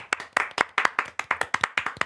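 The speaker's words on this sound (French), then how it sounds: "On applaudit" A small group clapping at a podcast recording, a string of about fifteen sharp, close hand claps in a loose, slightly uneven rhythm with no talk over them.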